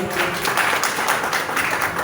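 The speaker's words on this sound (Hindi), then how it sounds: "आप थोड़ी सी तालियों में जाके दिखा दें" An audience at a union meeting in Karachi claps, a short burst of dense, scattered hand claps with some voices mixed in.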